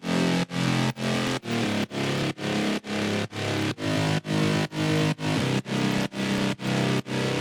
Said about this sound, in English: The mid bass layer sounds like this.